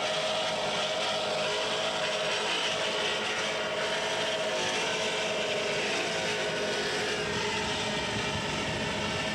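Powerful Mercury outdrive racing powerboat engines roar steadily and loudly throughout at a 1981 powerboat regatta in Greenwich Harbor, Connecticut, a continuous droning rumble with no talking.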